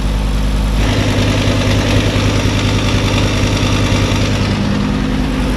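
A car engine with late ignition timing idles steadily and loudly throughout, with a constant low rumble and vibration and no talking.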